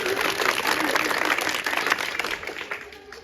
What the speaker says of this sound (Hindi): सर लोग के लिए ताली बजाते